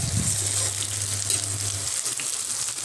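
Onions with garlic and chilli frying in mustard oil make a continuous soft sizzle with light crackles, and a low hum fades out partway through.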